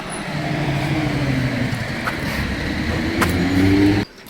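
A bus's engine rumbles steadily nearby as it approaches from across the road with traffic noise, rising slightly toward the end before cutting off abruptly.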